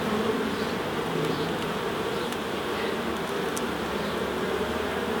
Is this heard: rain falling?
no